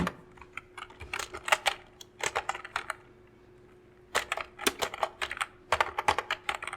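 Bangla text being typed on a computer keyboard: close, crisp bursts of rapid keystrokes, then a short quiet pause, then another quick run of clicks.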